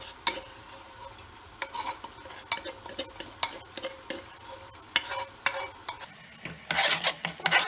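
Onions and two crushed garlic cloves sizzle softly in a pan on a gas hob while a utensil scrapes and stirs in irregular strokes, with a louder burst of scraping near the end.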